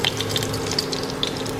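Pancakes fry in a pan, a steady close sizzle and crackle with scattered sharp ticks and pops throughout, no voices.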